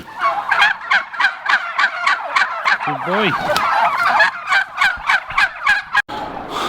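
A flock of turkeys at a farm shop gobbling in rapid, repeated bursts, loud and close, with a brief spoken phrase in between.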